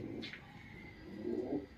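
A female racing pigeon in a loft gives a soft, low coo near the end of a brief, quiet moment; a faint higher call is heard early on, and no one speaks.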